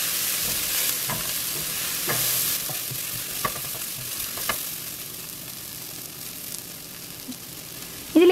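Scrambled egg sautéed over medium-high heat for egg fried rice, with steady crackling sizzle and repeated spatula scrapes and taps against the pan throughout.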